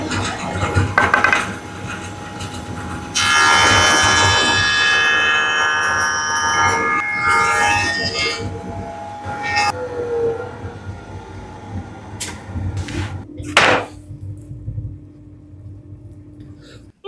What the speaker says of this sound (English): All I'm doing is chopping down some offcuts of 18mm plywood.